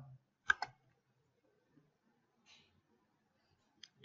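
A computer mouse clicks a couple of times in quick succession while working in mapping software, crisp but quiet against near silence, followed by a few fainter ticks.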